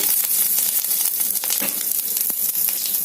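Flax seeds, cumin, curry leaves and drumstick leaves sizzle and fry steadily in a hot oiled pan for a Telugu breakfast dish, a constant close crackle with a few louder pops and no voices.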